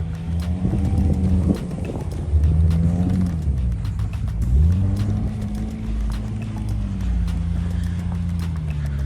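An all-wheel-drive car with a VQ engine accelerates hard at full throttle during a slide, its engine drone rising, dipping and climbing again, close and loud with rattling clatter over it.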